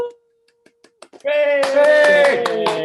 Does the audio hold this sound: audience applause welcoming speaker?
yes